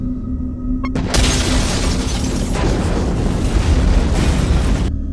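A bomb explodes in a film scene. There is a sudden loud blast followed by a dense, sustained roaring rumble for about four seconds, then an abrupt cut.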